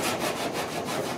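Steady scraping rasp of a sanding block worked back and forth over hardened body filler on a 1966 Ford F100 dash and firewall, close up, in quick repeated strokes with no talking.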